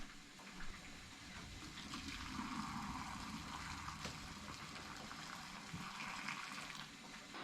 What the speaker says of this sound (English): it is now time to add our hot boiling water